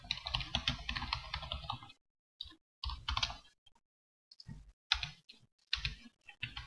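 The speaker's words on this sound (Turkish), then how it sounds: "Sayfa başlama yazıyorum. Sayfa içerimi yazıyorum." Someone types HTML on a computer keyboard with close, crisp keystrokes in bursts, separated by short silent pauses.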